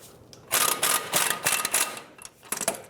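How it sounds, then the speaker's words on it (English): A ratchet with a 17mm socket loosens the caliper bracket bolts on the front brakes of a 2002-06 Toyota Camry, producing bursts of quick metallic clicking close by with brief pauses between them. "with a 17mm socket, you want to remove these 2 bolts here"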